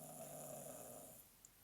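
Faint, low rumbling from a dog, a growl or snore, running steadily indoors for about a second before it stops, followed by quiet room tone.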